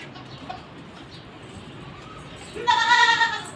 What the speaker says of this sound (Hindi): बकरी देखें, इसका साइज़ देखें